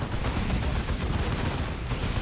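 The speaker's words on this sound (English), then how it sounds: "Throwing grenades." Grenades explode in the strategy game Dawn of War II, a dense, loud burst of rumbling blasts and crackling gunfire-like impacts that runs without a break for a couple of seconds.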